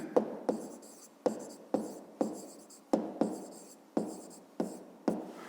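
A pen or pencil writes by hand on paper in a maths lesson, with about a dozen sharp scratchy strokes and taps in an irregular rhythm, close and fairly quiet.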